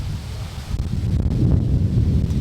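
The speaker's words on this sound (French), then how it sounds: "Comme vous pouvez le voir, du coup il y a un peu de vent" Outdoor wind in the Florida Keys buffets the microphone in a steady low roar that grows stronger partway through, with no talking.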